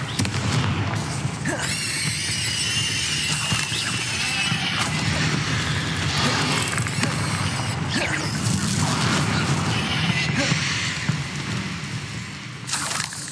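Repeated Confringo blast spells in Hogwarts Legacy, loud crackling explosive bursts and crashes layered over continuous game combat noise and music throughout.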